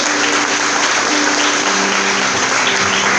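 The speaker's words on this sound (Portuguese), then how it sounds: "Pode aplaudir Jesus, aplaude mesmo," A church congregation applauds Jesus during a sermon, loud continuous clapping filling the space, with a few voices faintly audible under the applause.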